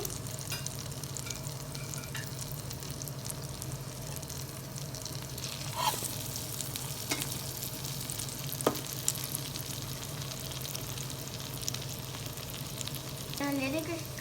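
Veg burger patties fry in a pan with a steady, crackling sizzle that runs throughout, broken by a few sharper pops and light scraping clinks.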